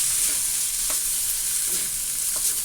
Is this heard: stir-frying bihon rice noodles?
yes